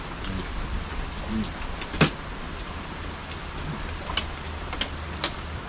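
Steady rainfall pattering on surfaces as a constant hiss, with a few sharper drops or knocks standing out, no one talking.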